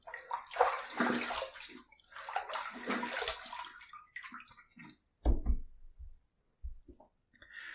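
Running water rinses a pottery shaving lather bowl in bursts of splashing and sloshing, followed by a few short knocks and drips as the flow stops.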